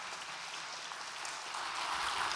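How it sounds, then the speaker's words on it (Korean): A church congregation at a year-end Sunday service applauds with a steady, fairly distant patter of clapping that swells slightly toward the end. "다시 한번 박수로 축하해 주시기 바랍니다."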